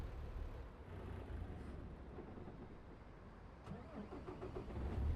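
A Peterbilt truck engine in a trucking game set in New Mexico, with a steady low rumble running throughout and a brief rise in level near the end.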